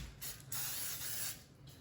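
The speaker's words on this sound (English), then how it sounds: "We just spray it so it doesn't get stuck in there." Cooking spray hisses into a 9 by 5 bread pan in two short, close bursts, the second longer and steadier, with quiet gaps around them.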